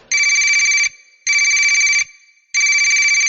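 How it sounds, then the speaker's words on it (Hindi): A phone ringtone rings three times in even bursts with short pauses between, loud and close, with nothing else audible. "उसका फोन बजा"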